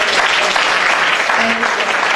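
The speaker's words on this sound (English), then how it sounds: "big round of applause to them for organizing" Applause from an audience at a talk on an emerging social class, a dense, steady clapping that fills the whole stretch at close range with no voices over it.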